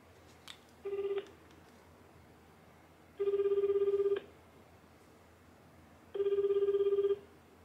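A telephone call rings out through a speakerphone: one short ring followed by two long ring bursts of about a second each, spaced evenly with quiet gaps between them.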